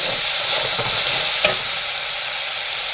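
Hot oil fries food in a pan with a continuous close sizzle and crackle, one brief sharper pop partway through, no voices.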